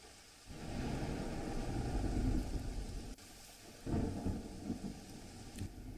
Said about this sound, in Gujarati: વહેલી સવારે ઝરમર વરસાદની શરૂઆત।